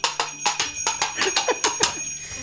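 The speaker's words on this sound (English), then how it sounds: "Now we do jingle bells because it's a gnome." Bells jingle in quick, bright, irregular shakes, close and fairly loud, played as a sound effect for a gnome riding a very short pony in a Dungeons and Dragons tabletop session.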